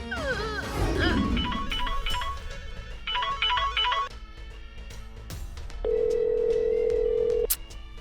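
A telephone rings unanswered in a drama scene, with two short bursts of warbling ring followed by a steady sustained tone, over low background sound at the start.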